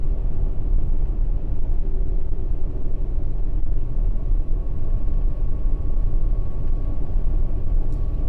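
A Peterbilt 567 truck hauling a 2024 Renegade Classic motor coach gives off a loud, steady low engine and road rumble that continues unbroken throughout, with no voices.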